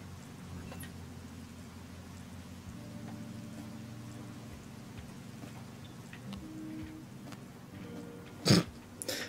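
Rain falls steadily in the Bee Movie Game video game, a continuous soft hiss that holds through the whole stretch before a brief louder thump near the end.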